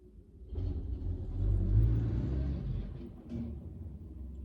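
A car drives past outdoors, its low engine rumble swelling to a peak midway and then easing off, with a smaller second swell of traffic noise near the end.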